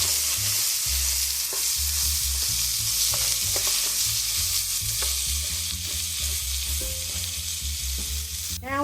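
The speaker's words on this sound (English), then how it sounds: "we're going to continue to stir that for 2 to 3 minutes." Onion being stirred as it fries in a pan for copycat Texas Roadhouse seasoned rice, with a steady close sizzle and repeated scraping stirs throughout, no talking.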